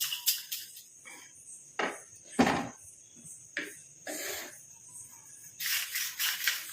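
Coconut, curry leaves and kalonji seeds roasting in a pan give off intermittent crackles and pops. Sharp snaps come in scattered bursts at close range, with a denser patch of crackling near the end.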